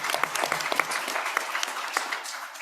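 Audience applause fills the room at the close of a presentation on transformative pathways toward a new European eco-social model: dense, steady clapping from a crowd that holds for a few seconds and then begins to thin.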